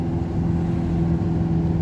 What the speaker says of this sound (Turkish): Bayağı trafik var yollarda.